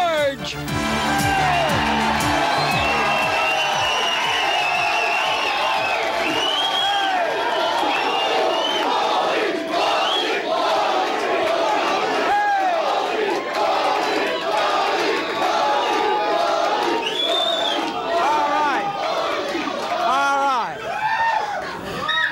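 A large television studio audience cheers, whoops and shouts loudly and continuously, a dense roar of many voices that barely eases.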